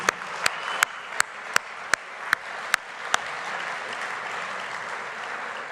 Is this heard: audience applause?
yes